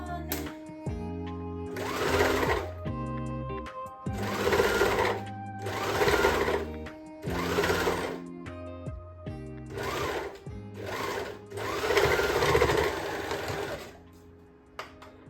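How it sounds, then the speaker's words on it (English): An overlocker sewing machine stitches scrunchies in several bursts of rapid whirring, each lasting a second or two and separated by brief pauses, close and fairly loud over soft background music. "So I did give the overlocker a good clean before I started doing my sewing"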